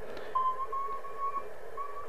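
Realistic DX-160 shortwave receiver picking up a drifting signal: a thin, steady tone wavers slightly over a hiss of band noise, with a fainter pulsing note, heard alone for about two seconds.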